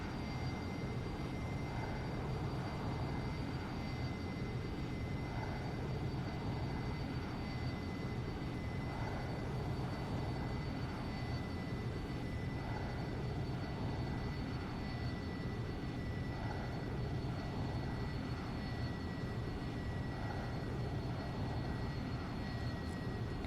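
A steady, faint engine drone from an airliner landing in a flight simulator game, an unbroken hum with a thin whine above it that holds level throughout.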